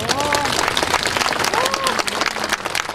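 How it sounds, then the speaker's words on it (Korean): A crowd at a highway opening ceremony claps steadily and loudly, a dense wash of applause with voices calling out above it throughout. "여러분 박수 한 번 더 크게 보내주시죠"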